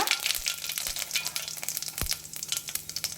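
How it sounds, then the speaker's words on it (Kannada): Mustard seeds and cumin sizzling in hot oil: dense, steady crackling and spitting from the pan, close and fairly loud throughout, with a few soft pops and clicks. "ಈಗ ಸಾಸಿವೆ ಮತ್ತು ಜೀರಿಗೆನ ಹಾಕ್ಕೊಳ್ಳಿ ಆಯಿಲ್ ಕಾದ ನಂತರ"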